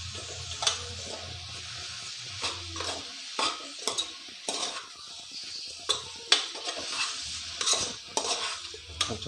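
Tomatoes go into a pan of cooked cabbage curry: a steady sizzle under repeated spoon scrapes and clanks against the pan, close and busy, with no voices.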